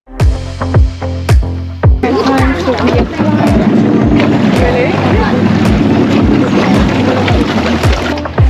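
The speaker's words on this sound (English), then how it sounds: "So we got to check on the Seadoos, make sure they're gonna start up good." Sea-Doo jet ski engines crank with rapid rhythmic starter pulses, then one catches and runs in a rough, loud idle beside the water, with repeated cranking thumps continuing underneath.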